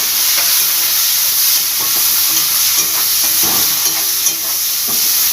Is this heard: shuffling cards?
no